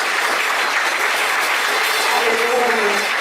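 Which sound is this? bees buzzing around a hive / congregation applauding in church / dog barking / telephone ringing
congregation applauding in church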